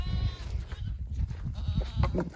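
Baby Mini Nubian goats bleat in short, overlapping calls beside a garden while being given weeds, with steady low rumbling and movement noise throughout.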